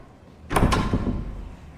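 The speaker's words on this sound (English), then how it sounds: "he unlocked a magnificent pair of double doors." Grand old double doors being unlocked and opened in a radio drama, two sharp metallic clunks of the lock close together followed by a heavier rumbling swing of the doors.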